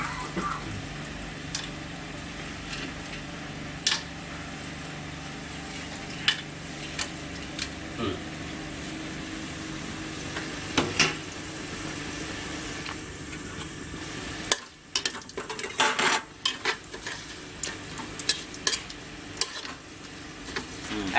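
Garam masala spices and chilies fry in a pan for a mutton bhuna gosht, giving a continuous close sizzle broken by scattered scrapes and clicks of stirring, with a louder burst of stirring in the last few seconds.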